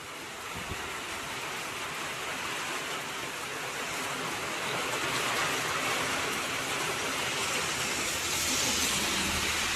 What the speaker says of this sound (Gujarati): તો ધોધમાર વરસાદ વિછિયામાં ધોધમાર વરસાદ ચાલુ।